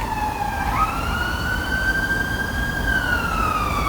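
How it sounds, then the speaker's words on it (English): An emergency siren wails in a long rising and falling sweep over steady low traffic rumble in central London, sounding fairly close and continuous. "The sirens now make a debut every single video."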